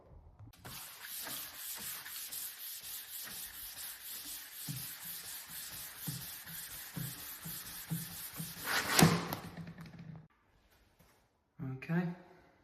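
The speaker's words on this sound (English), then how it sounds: "we'll need to sand it back with some 600 wet and dry." Wet sanding of a UPVC surface with 600 grit wet and dry paper gives rapid, even rubbing strokes close by, ending in a louder scrape, a short silence and a brief final rub.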